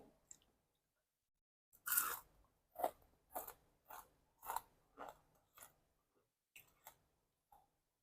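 Crispy fried squid is bitten and chewed up close, about nine sharp crunches in an uneven rhythm separated by quiet gaps.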